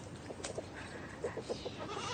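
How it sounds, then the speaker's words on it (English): Goats bleat on a small farm, several short, wavering calls scattered over a noisy outdoor background, moderately close. "You can come and check out my goats."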